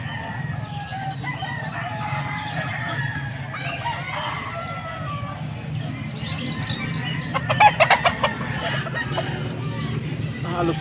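Chickens and roosters cluck and squawk at a busy poultry market, a steady mix of calls over a crowd murmur, with a short burst of sharper clucking near the end.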